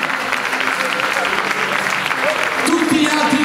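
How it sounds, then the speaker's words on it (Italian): Enthusiastic crowd applause at a live music awards show, steady dense clapping throughout with cheering and a voice rising over it near the end. "un applauso più forte, ragazzi"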